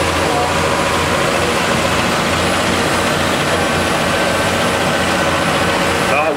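A John Deere 6930 tractor labors loud and steady at a tractor pull, its heavy engine droning continuously close by while an announcer talks over it.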